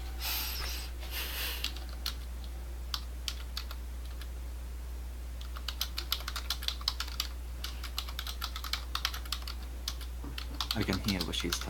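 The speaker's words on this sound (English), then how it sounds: "I can hear what she's typing." Close, quiet clicking of a computer keyboard, bursts of rapid keystrokes separated by pauses, with irregular taps picking up toward the end against a low background hum.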